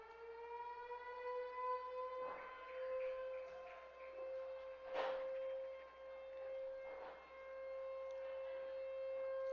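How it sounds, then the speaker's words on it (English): Tornado sirens in Des Moines wail in a long, steady, slowly wavering tone that carries from a distance across a football stadium, with brief crowd and public-address bursts breaking in over it. "they are testing the tornado sirens, as they do here in Des Moines"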